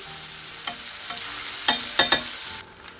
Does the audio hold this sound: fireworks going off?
no